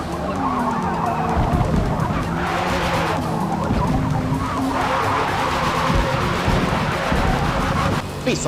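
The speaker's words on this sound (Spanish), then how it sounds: "Piso a fondo el acelerador" A Class R race car at Spa in Forza Motorsport, its engine droning under hard acceleration while tires skid and squeal in bursts, with a voice talking over the racing.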